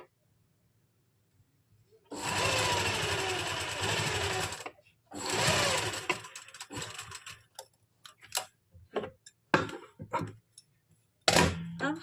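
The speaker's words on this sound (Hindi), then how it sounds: "एक पैर का मार्जिन छोड़ते हुए पूरे में सिलाई लगा लेंगे और टांका हमें छोटा कर लेना है" A sewing machine stitching the lining of a kameez runs in two steady whirring bursts of a few seconds each, followed by short ticking clicks and brief machine starts, close and clear.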